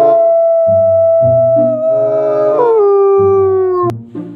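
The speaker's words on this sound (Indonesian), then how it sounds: "di sini ada serigala teman" A wolf in the dinosaur park game Jurassic World Evolution 2 lets out a long, loud, falling howl, close and clear, over a quieter looping background tone.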